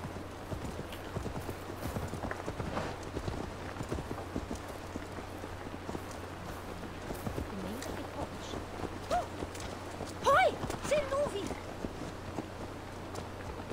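Horse hooves clip-clop at a steady walking pace in the video game Assassin's Creed Valhalla, close and continuous over a low ambient drone, with a short voice breaking in near the end.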